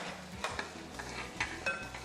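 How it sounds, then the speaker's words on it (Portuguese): Unsalted butter melting and bubbling in a hot pan, a soft steady sizzle broken by several sharper clinks and stirring scrapes of a utensil, close up with no voices. "Manteiga ferveu"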